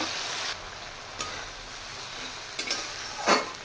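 Ginger paste, green chilies and cumin frying with chopped tomato in a pan, a steady hiss of sizzling with a few scraping stirs of a utensil, close and moderately loud.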